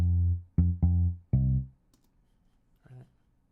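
A solo synthesized bass guitar line from a bachata remix plays four deep, punchy notes in quick succession, then falls nearly silent apart from a faint later blip.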